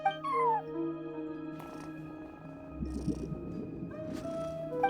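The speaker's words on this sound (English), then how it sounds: "No one except for a cat watching over the front desk." A cat meows at a front desk in the Genshin Impact video game, one short rising-and-falling call near the start over a steady tonal musical background, with a few faint game effects later.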